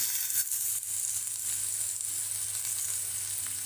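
Onion hitting hot oil in a pan with mustard seeds and coriander powder for rava upma, giving a steady, loud, continuous sizzle and crackle throughout, with no talking.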